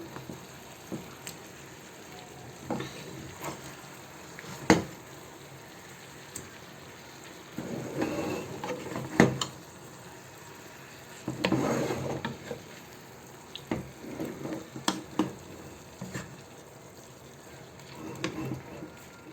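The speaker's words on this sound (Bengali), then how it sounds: "দেখি একটু নাড়া দিয়ে দেব একবারে" Meat chaap being stirred in a cooking pot, with scattered scraping and clinking bursts and a few sharp knocks over a low background hiss, close and moderately loud, with no talking.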